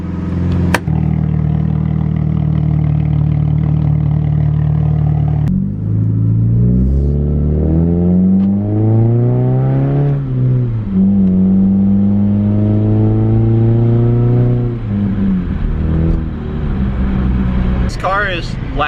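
A straight-piped PT Cruiser GT with an SRT-4 engine drones loudly from inside the cabin, climbing through repeated rising revs and gear shifts, its exhaust blat steady throughout the drive.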